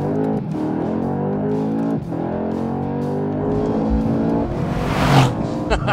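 A 2020 Mercedes-AMG C63 S engine pulls hard under acceleration with a loud, steady drone, broken by brief dips at quick gear shifts before the revs climb again.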